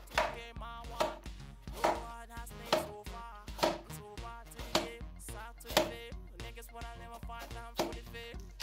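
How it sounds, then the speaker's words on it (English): A knife slicing carrots steadily on a chopping board, crisp regular strikes about twice a second, close and clear with no talking. "I'm slicing my carrot here"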